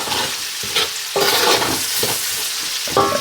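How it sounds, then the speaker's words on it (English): Onions cooking down on almost high heat in a pot still holding the flavourful drippings from oxtail meat, a loud continuous sizzle broken by repeated scraping and clattering stirs, with no voices. "I'm on almost high heat. And what we're doing is we're cooking down these onions"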